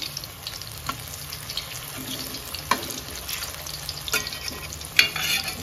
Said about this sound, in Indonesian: Tape tak goreng sik nek oke